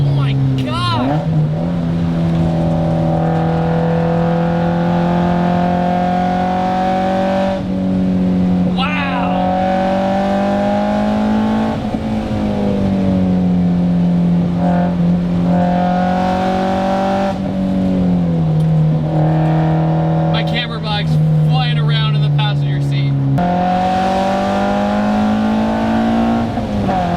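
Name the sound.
Toyota MR2 Spyder car engine driving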